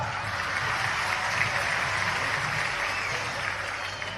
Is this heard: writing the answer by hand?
no